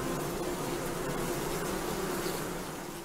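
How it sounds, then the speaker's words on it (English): Bees hum in a dense, steady drone from beehives beneath therapy beds in Lithuania, continuous and moderately loud with no break. "Therapists claim they use energy created by bees flapping their wings."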